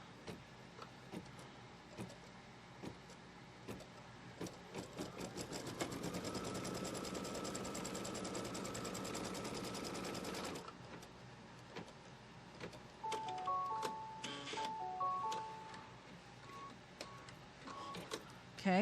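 An embroidery machine stitches a tack-down line across fabric in a hoop for a Kimberbell Pumpkins & Potions quilt, a steady mechanical whir at moderate volume that runs for several seconds, with lighter rattles and clicks before and after.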